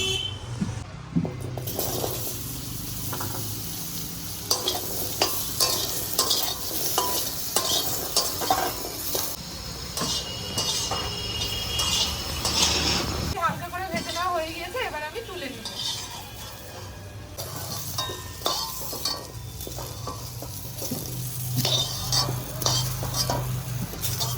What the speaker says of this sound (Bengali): এবার সামান্য একটু তেল দিব কড়াইতে আলুগুলো ভেজে নেওয়ার জন্য